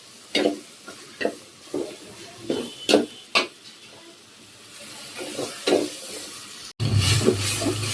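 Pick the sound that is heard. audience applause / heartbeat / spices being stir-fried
spices being stir-fried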